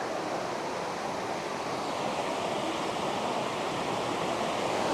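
A waterfall carrying a lot of water produces a steady, dense rushing roar of broadband noise that stays even and continuous throughout, with no voices.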